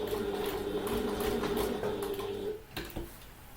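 A domestic sewing machine stitches through a handbag's lining and exterior layers in a steady, close mechanical whir that runs for about two and a half seconds, then stops abruptly with a few faint clicks after.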